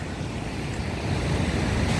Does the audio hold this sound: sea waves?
yes